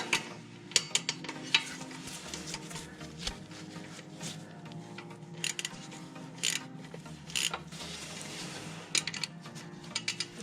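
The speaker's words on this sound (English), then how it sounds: "the 8mm bolt that I need to take out to be able to put the new one in" Removing an 8mm bolt securing the rear ABS speed sensor on a Jeep JK: close ratcheting clicks and metallic tool taps in short bursts over a steady low hum, with no talking.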